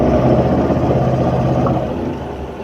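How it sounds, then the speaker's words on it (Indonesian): An automatic scooter engine runs at idle, a close, steady low rumble that holds evenly and then eases slightly toward the end. "kita akan coba nyalakan motornya, lalu kita lihat putaran mesinnya itu atau RPM-nya itu dalam waktu 1 menit"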